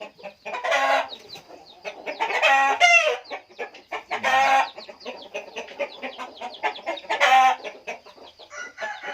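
Hens cluck and a rooster crows repeatedly at a poultry breeding farm, several loud close crowing bursts rising over continuous clucking with no talk.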